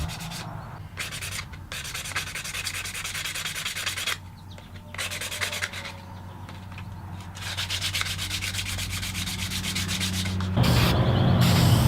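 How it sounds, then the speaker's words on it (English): Small wooden pieces being lightly hand-sanded to soften their corners, close rhythmic scratchy rubbing strokes in repeated bursts with brief pauses. "Now just lightly sand the pieces just to soften the corners just a little bit."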